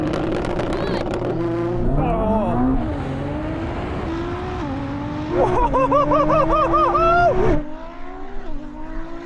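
A Ferrari SF90 and a 1000hp Nissan GT-R launch into a drag race, engines roaring loud and close as they rise through the gears with repeated shift dips; a voice counts at the start.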